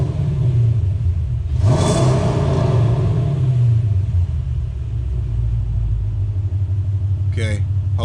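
A 5.7L Hemi V8 fitted with a 6.4L intake manifold is blipped once from idle, climbing to a loud rev and settling back to a deep, rumbling idle close by. A short squeak is heard near the end.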